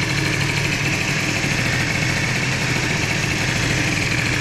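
A Bidalot RF 50 WR motorcycle, a 50cc bike tested with a 20 mm carburetor, idles steadily, its engine running close and loud with a constant buzzing drone and no voices over it.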